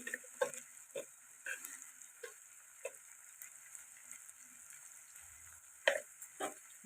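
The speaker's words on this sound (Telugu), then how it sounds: "ఇవన్నీ కలుపుకున్నాం" Turmeric, chilli and coriander powder are stirred into a simmering tomato curry, with soft scraping strokes of a spoon against the pot and light sizzling in a quiet kitchen.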